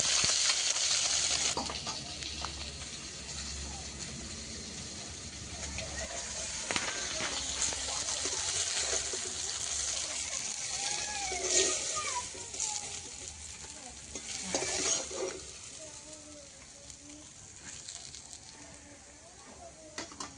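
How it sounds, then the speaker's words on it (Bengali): Fish frying in a kadai over a clay stove, a soft sizzle and bubbling of oil with occasional stirring and clinks, fairly faint, while someone talks over it. "এখন কড়াইতে দিয়ে দিয়েছি, মাছগুলো আগে ভেজে নেবো"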